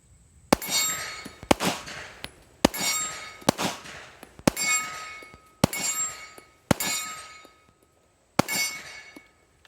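Bullets striking 10-inch steel plates at 25 yards ring out as seven sharp metallic clangs, each with a bright lingering ring, spaced about a second apart and sounding fairly close.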